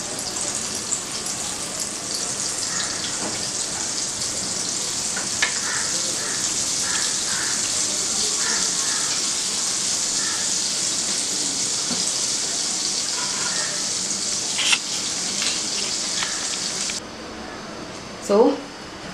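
Butter heating in a pan for paneer bhurji gives a steady broadband hiss of sizzling that runs continuously, with a few small clicks and a brief louder knock near the end as the hiss cuts out.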